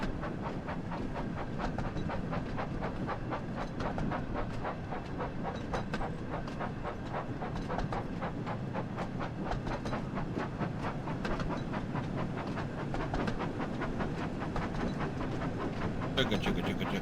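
Toy-style train running on rails in a Thomas & Friends setting, with a steady rapid clickety-clack rhythm and chuffing carrying on continuously at a moderate level throughout.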